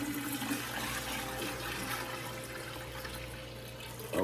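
Dehumidifier water poured from a container into a Berkey water filter, a steady close trickling and splashing stream over a low background hum, with a brief louder knock at the very end.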